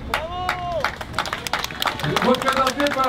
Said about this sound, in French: j'aimerais qu'on donne un tonnerre d'applaudissements aux deux associations